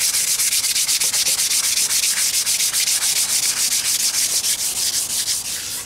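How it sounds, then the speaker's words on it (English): Steady rhythmic rubbing of wet sanding a pipe during polishing, quick back-and-forth strokes repeating evenly throughout, close to the microphone with no voices. "The wet sanding is going to take you the longest."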